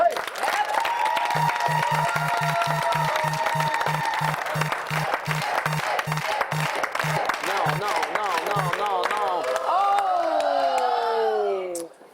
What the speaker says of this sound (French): On l'applaudit, tout le monde.